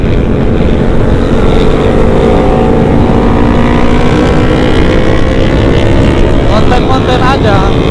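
Yamaha R6 sport motorcycle on a night ride, its engine droning loud and steady throughout, with a rising rev sweep near the end as it accelerates.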